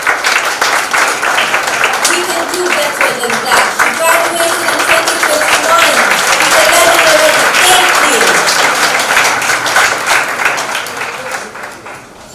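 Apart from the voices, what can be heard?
audience applause welcoming Dr. Tipo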